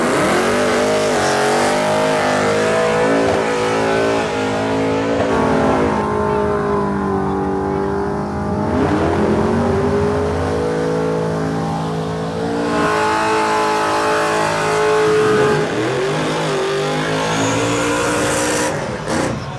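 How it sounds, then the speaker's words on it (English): Cars doing burnouts at the Summernats 36 car show, engines revving hard and continuously with rising and falling roars, tyre squeal and passing cars, loud and close throughout. "Cars are still going round here, and there's plenty of people lined up behind me to chug a skid."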